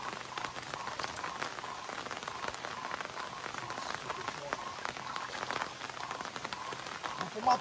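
Steady rain falls on a surface outdoors while fishing, a dense close patter with scattered louder drops running throughout, with people's voices faintly present under it.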